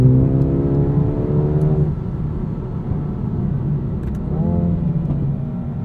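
A 2020 Mercedes-AMG A35 sedan accelerates hard from the driver's seat, engine pitch climbing steadily, dropping at an upshift, then rising again through the next gear, loud and continuous.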